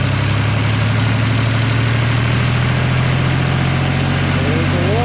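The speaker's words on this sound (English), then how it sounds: "Alright, PTO's on. Start revving it up." A tractor engine revs up to drive a PTO-powered water well pump, a steady, loud mechanical drone that holds throughout with no pause.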